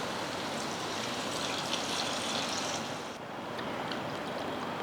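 Steady rushing water poured continuously into a cooking pot for mutton biryani, a broad splashing hiss that shifts slightly midway, close by with no voices.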